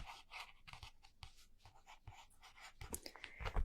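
Pencil or marker sketching on cardboard in a close, quiet ASMR setting, soft rhythmic scratchy strokes in short bursts, faint and intimate.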